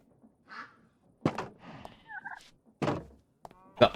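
A Minecraft farm turkey gobbles in short warbling bursts between louder thumps and clunks of animals moving in a pen; the game sounds are close and clear, with no talk.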